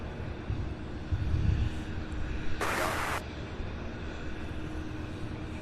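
A 14-year-old Boeing 767 arriving on runway 17 right at Louisville International Airport, a steady distant jet rumble with wind noise, and a short hissing burst partway through.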